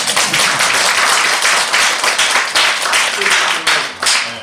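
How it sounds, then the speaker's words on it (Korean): Audience at a Korean congratulatory address bursts into dense, steady applause, many hands clapping loudly and continuously throughout. "또 이럴 때도 박수가 한번 나와요."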